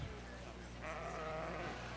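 Sheep at a junior breeding sheep show at the Ohio State Fair, with a bleat rising from a crowded show ring over a steady hum of hall noise and background murmur.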